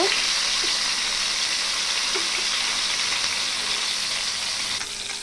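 Fish and fish roe fry in hot oil with a steady, loud close-up sizzle, a few faint knocks as the fish is turned, no voices.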